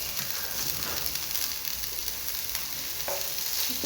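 Onions frying in a pan for a ladies finger fry, with a steady, close sizzling hiss and occasional soft stirring scrapes throughout.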